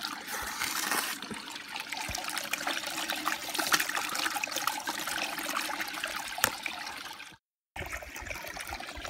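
Water runs steadily through a small 30-litre gold sluice wet plant processing fine crushings, a continuous trickling, splashing flow heard close with a few knocks and a brief cut to silence near the end.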